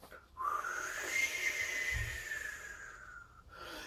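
A person imitates wind with a breathy, whistling whoosh that rises and sweeps along on a thin, airy tone, then fades away. It is fairly quiet, with no talking.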